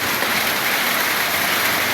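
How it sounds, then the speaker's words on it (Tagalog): Heavy rain pours in a dense, steady hiss, even and unbroken throughout, close and fairly loud with no other sounds standing out. "Ingat ang ulan, guys!"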